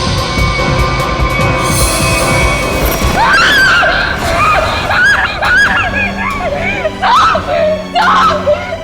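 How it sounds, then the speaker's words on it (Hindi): A woman screams loudly in a crime drama scene: after a few seconds of rough noise, high, wavering cries come in repeated bursts, loud and close. "इतनी जोर से क्यों चिल्ला रही है?"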